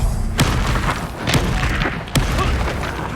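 An Incendio spell cast in combat in the video game Hogwarts Legacy, heard as loud booming blasts with three distinct thumping impacts over a dense, rumbling battle background.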